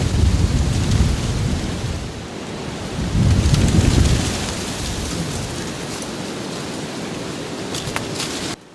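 Steady wind roars through a winter storm outdoors at a bushcraft campsite. It forms a continuous broadband rush with stronger gusts swelling near the start and again in the middle, and no voices are heard.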